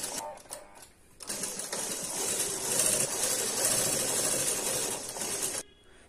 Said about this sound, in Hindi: सबसे पहले हम इसे सिलाई लगा के लाते हैं।